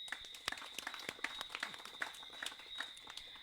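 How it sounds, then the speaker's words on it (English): Light, scattered applause for sponsors from a small audience, individual claps distinct and fairly faint, with a steady high tone running underneath. "So big round of applause for them as well."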